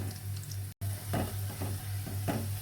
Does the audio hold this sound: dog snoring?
no